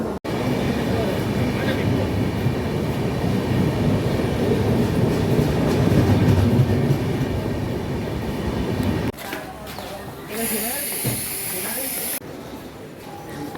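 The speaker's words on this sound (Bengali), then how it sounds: "ট্রেন চলে এলো" An express train rolls into Kumardubi station, bound for Howrah, with a loud continuous rumble and rattle of rail cars that drops away, followed by a burst of high hissing from the train.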